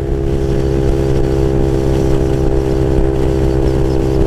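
A Honda Grom motorcycle runs near redline at top speed on a freeway, its small engine holding a loud, steady, buzzing drone with little change in pitch, mixed with wind rush throughout.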